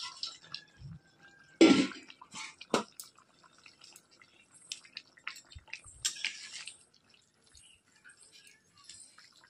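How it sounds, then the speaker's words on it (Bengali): Fish pieces dropped into a boiling vegetable curry of cauliflower and potato: one splashy plop early on, then sparse wet drips, clicks and light bubbling in a quiet pot. "ফুটে উঠেছে, এখন মাছগুলো দিয়ে দেব এর মধ্যে।"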